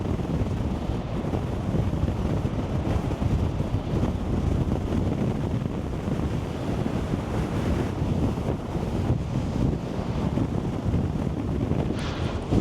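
Strong storm wind buffets the microphone while surf rolls and crashes steadily along the coast near Cartagena, with no one speaking.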